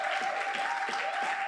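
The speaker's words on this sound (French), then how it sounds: "On peut l'applaudir encore." A church congregation claps steadily and fairly loudly in a continuous round of applause, with no voices standing out.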